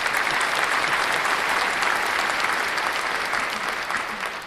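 Canned applause sound effect played over a crypto livestream, a thick continuous wash of many hands clapping at even loudness that tapers slightly at the end.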